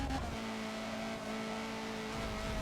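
A Honda CRX race car engine holds full throttle through the Schumacher S at the Nürburgring GP circuit at night in Forza, a steady sustained drone with no talk.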